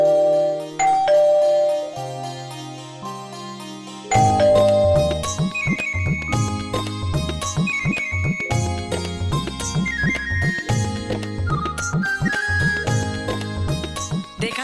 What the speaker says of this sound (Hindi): देखा सुरेंद्र बेटा, कैसे डोरबेल बजा रही है।